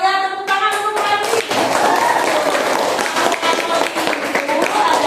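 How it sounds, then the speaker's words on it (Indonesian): Classroom applause for a student during a computing lesson, a burst of hands clapping from a group of students that starts after a brief musical chime and continues steadily and fairly loud. "tepuk tangan untuk Randy"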